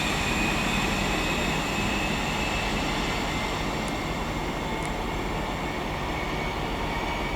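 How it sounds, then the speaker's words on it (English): A train departs from Birmingham International on the West Coast Main Line on the 11:04 service from Birmingham New Street to Northampton, heard as a steady, loud broadband rumble and rush that holds evenly throughout, with faint high squeaks. "That's heading off on the 1104 service to Northampton from Birmingham New Street."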